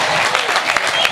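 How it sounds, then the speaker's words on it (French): A brief burst of audience applause at a political campaign launch meeting in New Caledonia: dense, close clapping for about a second. "Des applaudissements s'il vous plaît."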